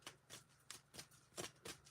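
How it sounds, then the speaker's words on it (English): Playing cards riffle-shuffled at a live bingo game, about seven quick crisp bursts in an even rhythm, close and fairly quiet, with no talking. "Cards, I shuffle."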